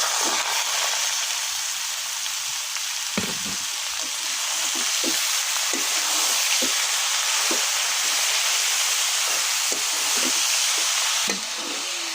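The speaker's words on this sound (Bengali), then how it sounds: "এই যে পেস্ট রসুন ভাজা হয়ে গেছে, এখন শাক ঢেলে দেবো।" Bottle gourd greens frying in hot oil with garlic paste, a steady close hissing sizzle with soft stirring knocks scattered through, no voices.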